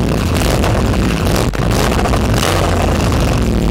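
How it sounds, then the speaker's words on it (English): An Audi RS7 fitted with a full Milltek exhaust system revs loudly and continuously, a dense, steady engine roar that stays strong throughout with a brief dip midway, heard up close. "And here we got the full Milltek exhaust system."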